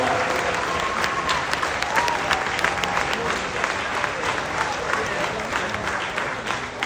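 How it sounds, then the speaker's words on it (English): A cruise ship audience gives World War II veterans a sustained round of applause, dense steady clapping from many hands that continues without letting up, with faint crowd murmur. "Can you please give the World War II veterans a nice round of applause?"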